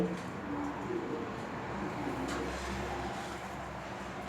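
A roughly six-month-old young racing pigeon coos softly and steadily, low and close, with faint background noise and no talking.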